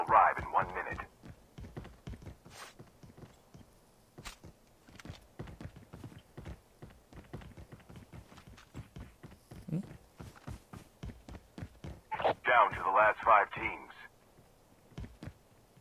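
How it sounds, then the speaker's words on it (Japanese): Footsteps in the mobile shooter game Call of Duty Mobile tap in a steady, close rhythm, like hooves clip-clopping, for the whole stretch, with two louder bursts of other game sound near the start and end. "足音が紛らわしい。"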